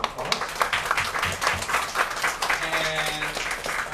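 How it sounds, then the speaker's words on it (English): An audience at a live discussion salon in Hong Kong applauds the speakers with dense, steady clapping for about four seconds. Faint voices and a brief tonal sound show up toward the end. "I think the speakers deserve one last round of applause"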